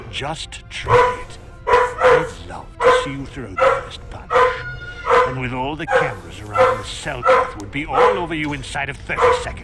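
A dog barks repeatedly in a real room, yips and bow-wows recurring under continuous spoken game dialogue through the whole stretch.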